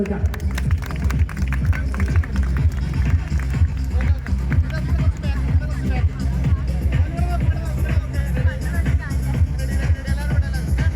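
A crowd at a public event in Chemmad claps together, steady rhythmic applause close by, with chatter and babble mixed underneath throughout.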